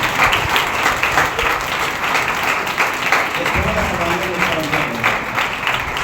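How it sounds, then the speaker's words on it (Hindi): A church congregation applauds during a Sunday service, with steady, dense clapping filling the room throughout, while a preacher's voice speaks over it partway through. "इतना तालियां बजा रहे हैं"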